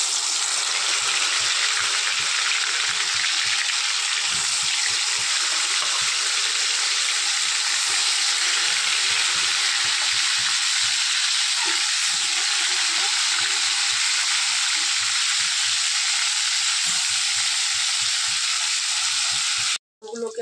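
Marinated chicken pieces fry in hot oil for biryani, a steady, loud sizzle running unbroken for about twenty seconds with faint low clinks beneath, then cutting off abruptly at the end.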